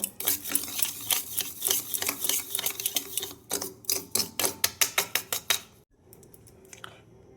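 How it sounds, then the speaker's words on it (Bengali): A spoon scrapes and clacks rhythmically against a bowl while potatoes are mixed with soy sauce, a fast run of close, bright metallic strokes that quickens before stopping abruptly, followed by faint light taps, with no talking. "সোয়া সস এটা এক চামচ দিলাম এটাকে ভালো করে আমি মিশিয়ে নেব"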